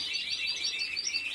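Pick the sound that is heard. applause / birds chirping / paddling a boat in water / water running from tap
birds chirping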